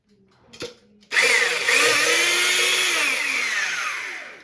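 An electric hand mixer starts with a sharp whirr and runs steadily and loudly, whipping a single egg white in a bowl for sugar icing, its pitch shifting slightly as the beaters move.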